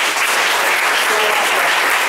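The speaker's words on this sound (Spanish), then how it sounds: "les pido un fuerte aplauso" An audience at a lecture claps loudly and steadily to welcome the speaker, dense applause filling the whole moment without pause.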